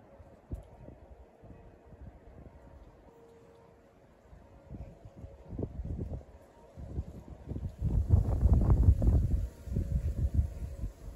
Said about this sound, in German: Geht auf jeden Fall ein relativ starker Wind.